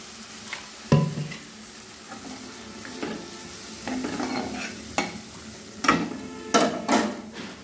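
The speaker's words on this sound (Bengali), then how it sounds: "এবার আমি ঝোলের জন্য পরিমাণ মতো একটু জল দিয়ে দিলাম" Spiced masala for a pabda fish curry sizzles in a hot pan as water is poured in, with scattered spoon scrapes and knocks against the pan and bursts of crackling throughout.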